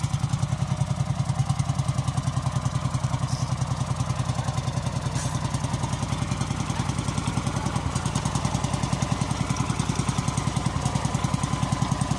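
A crank-started tractor engine at an agricultural fair runs at a steady idle, with a close, loud, evenly pulsing thump and mechanical clatter that continues throughout.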